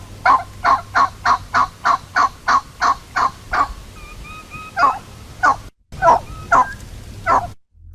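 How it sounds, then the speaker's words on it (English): A wild turkey hen yelps in a long, evenly spaced series of loud, raspy notes, then a few more after a short pause. Close and clear. "the hen will do an assembly call that sounds like this."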